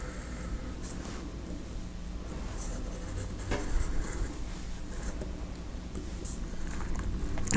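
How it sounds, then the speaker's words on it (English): A compass drawing a circle on paper, a soft, continuous scratching of the pencil lead against the sheet, quiet and close with faint background hiss. "That's where we're going to place the needle of our compass to draw our next circle."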